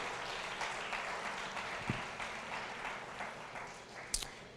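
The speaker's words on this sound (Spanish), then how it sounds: "Dele un aplauso a Dios." A church congregation applauding, heard as a steady, fairly faint wash of clapping with a couple of sharper claps near the end.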